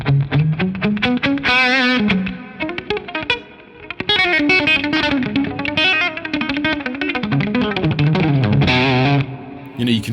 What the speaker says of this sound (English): as we turn it down in the more direction, that's going to give us an earlier onset of distortion and breakup